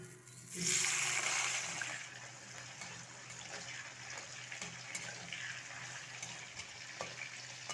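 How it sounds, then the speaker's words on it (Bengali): Potato pieces frying in leftover fish-frying oil in a wok, a soft hissing sizzle that swells briefly then settles into a faint steady crackle, heard alone. "মাছ ভাজার তেলে ভেজে নিচ্ছি কয়েক টুকরো আলু"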